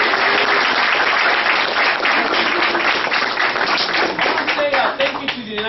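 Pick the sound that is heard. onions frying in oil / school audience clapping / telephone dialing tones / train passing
school audience clapping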